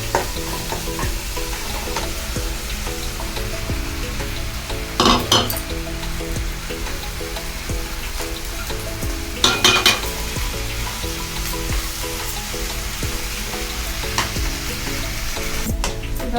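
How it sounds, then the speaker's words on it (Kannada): Masala spices with garam masala and coriander powder frying in a pan for mushroom mutter curry, a constant close sizzle with scraping stirs and a couple of sharp utensil clinks. "ಇವಾಗ ಚೆನ್ನಾಗಿ ಮಸಾಲೆ ಮಿಕ್ಸ್ ಮಾಡಿ ಆಮೇಲೆ ಮಶ್ರೂಮ್ ಮಟರ್ ಇದಕ್ಕೆ ಹಾಕ್ಕೊಳ್ಳೋಣ"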